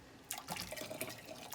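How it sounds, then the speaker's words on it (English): Boiling water poured into canning jars for pickles, a soft, close trickle and splash that runs steadily at low volume. "And then we're going to pour a little bit more in here."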